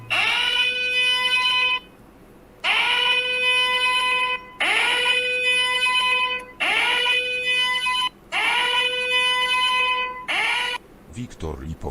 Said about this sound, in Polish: O, alarm.